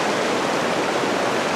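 At the top of its main drop, Potato River Falls pours in a continuous heavy rush, a close, even wash of water noise with no pause or change.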